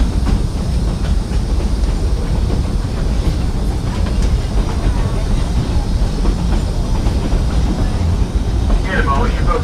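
Georgetown Loop Railroad train rolls along mountain tracks in Georgetown, Colorado, a loud, steady rumble with rhythmic wheel clatter and occasional squeals, heard close from aboard the moving train.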